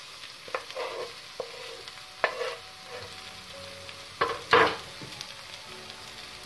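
Fresh tomatoes fry in a pan for spaghetti Bolognese, giving a soft, steady sizzle broken by a few sharp clinks and scrapes of a spoon against the pan.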